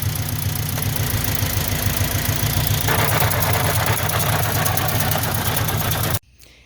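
A 2003 Honda Civic with an odd transmission noise, heard as a loud, steady mechanical drone with a rapid rhythmic knocking pulse that changes pitch partway through, then cuts off abruptly near the end.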